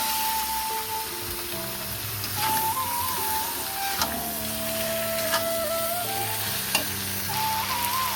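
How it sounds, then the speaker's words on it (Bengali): Chicken pieces fry in a spiced, well-cooked masala, giving a steady close sizzle throughout with a few sharp clicks and faint scraping stirs on top; no one talks. "দিয়ে দেবো এবার চিকেনগুলো,"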